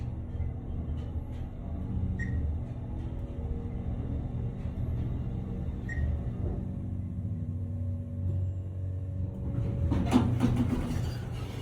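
Dover elevator at 150 Clove Road in Little Falls, NJ running upward, a low steady mechanical hum and rumble with faint clicks, ending in a brief louder clatter near the end.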